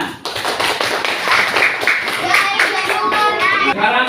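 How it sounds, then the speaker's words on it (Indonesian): Schoolchildren in a classroom clap their hands together after a group presentation, producing a quick, busy patter of close claps that runs the whole way through, with faint young voices mixed in. "Tepuk tangan."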